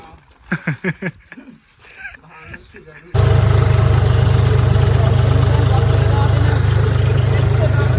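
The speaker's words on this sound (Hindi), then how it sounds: "हम ट्रैक्टर में निकल गए हैं खाद लेकर" After a few seconds of voices, a loud tractor engine roars to life and keeps running at a steady, heavy drone, on a tractor heading to the fields carrying fertilizer.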